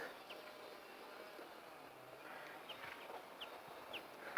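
Faint, scattered bird chirps and short calls ring out over a steady outdoor background hiss, spaced irregularly and fairly distant.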